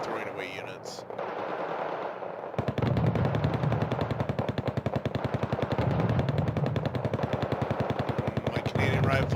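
Sustained machine gun fire in the real-time strategy game Wargame, a rapid, loud, steady stream of rounds running for several seconds after a short stretch of talk.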